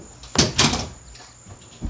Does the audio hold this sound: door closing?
yes